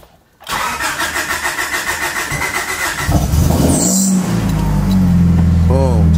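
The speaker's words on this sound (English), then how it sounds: "All right, let's go ahead and crank it." A Honda engine, just repaired after an ECU fuel-pump fault, cranks with a rapid, pulsing starter chug for about three seconds, then catches and settles into a steady running idle close by.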